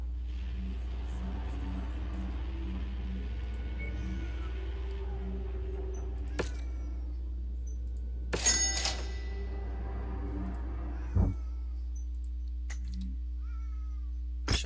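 A cat meows repeatedly nearby in a room, short rising calls scattered across the span over a steady low hum and faint game sounds, with a couple of sharp knocks in between.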